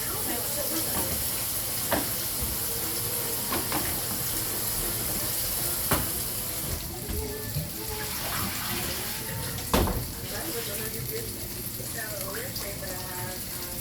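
Tap water runs steadily into a kitchen pot for mac and cheese, a continuous hissing flow with a few clinks and knocks from cookware, mixed with some talking.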